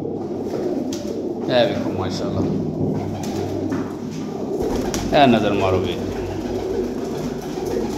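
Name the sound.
pigeons cooing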